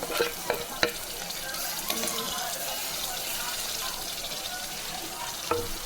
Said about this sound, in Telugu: వేసుకున్నాం కదా టమాటాలు. ఇది తిప్పుకున్నాం.